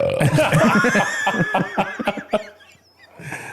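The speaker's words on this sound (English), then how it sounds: "Surprise burp!" A person burps loudly at close range, a long croaking belch followed by laughter and chatter from others nearby.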